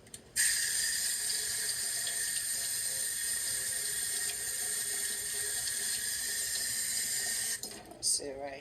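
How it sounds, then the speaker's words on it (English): A fork is rinsed under a running kitchen tap, the water hissing in a steady, loud stream for several seconds before it is shut off, followed by a brief clatter. "I'm going to rinse my fork."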